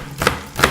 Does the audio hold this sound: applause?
no